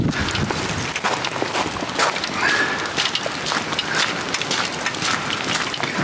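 Steady rain patters down on surfaces nearby, a dense continuous hiss with scattered drip and splash sounds.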